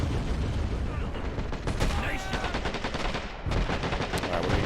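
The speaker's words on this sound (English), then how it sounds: "like that machine gun there that you see." Rapid machine gun fire and battle noise crackle continuously in the WWII strategy game Men of War: Assault Squad, a dense, loud barrage of bursts with someone talking over it.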